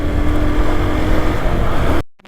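A motorbike engine labours up a steep, dangerous hill road in first gear, a loud close droning roar mixed with wind buffeting before it cuts off abruptly.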